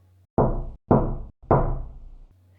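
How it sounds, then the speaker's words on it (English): Three loud, close knocks on a wooden door, each a heavy thud with a short ring-out, spaced about half a second apart and heard alone in a quiet room. "came 3 knocks."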